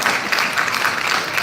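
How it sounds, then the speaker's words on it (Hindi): An audience applauds at a live event in a brief burst of dense clapping that holds steady throughout. "जोरदार तालियां"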